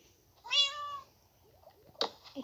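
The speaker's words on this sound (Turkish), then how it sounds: "kim kedisi lan?" A cat meows in a video game, one clear drawn-out meow followed by a shorter, fainter cat sound, close and alone with no talking.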